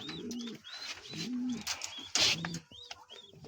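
Fancy pigeons kept for sale coo in low, repeated throaty phrases close by, with a few higher chirps and a brief rustle between calls.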